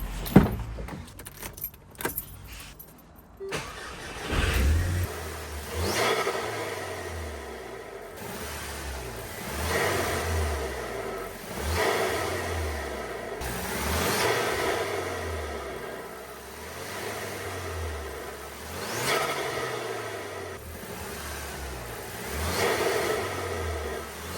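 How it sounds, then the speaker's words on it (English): Keys jangle briefly, then a modified Audi TT engine starts and settles into a steady warm-up idle, with slow rhythmic rises in engine note recurring throughout. "So I'm gonna let the car warm up and then we're gonna listen to how it sounds."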